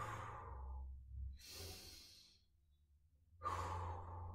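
Slow, deep breaths during a stretching exercise: soft, close sighing exhalations and airy inhalations alternating in an unhurried rhythm, quiet with no talking.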